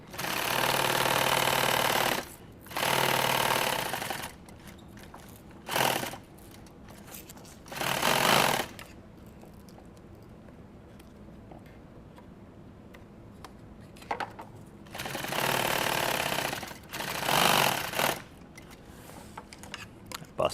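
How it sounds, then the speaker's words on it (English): Industrial sewing machine stitching through hook Velcro during a gear build, running in loud bursts of a few seconds each with quiet gaps between, one broken thread strand, no talking. "When you're sewing hook Velcro, it'll do that sometimes."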